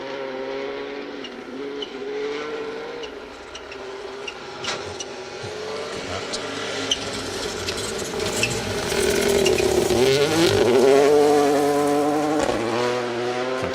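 A Toyota Yaris rally car drives a forest stage at the Carlisle Stages Rally, its engine revving up and down through gear changes, getting louder as it approaches and peaking near the end.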